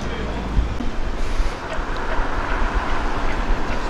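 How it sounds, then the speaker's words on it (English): A Blackpool tram approaches along the seafront line, a steady broadband rumble and rush with wind noise, continuous and fairly loud throughout. "And here comes our tram to take us to Waterloo Road."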